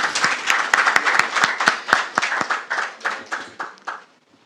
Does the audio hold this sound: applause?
yes